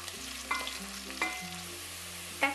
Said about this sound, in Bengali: হাফ কাপ পেঁয়াজ কুচি এবং স্বাদ মতো কাঁচামরিচ কুচি দিয়ে দিচ্ছি একটা তেজপাতা তিন টুকরা এলাচ এবং দুই টুকরা দারচিনি দিয়ে পেঁয়াজটাকে হালকা ভেজে নেব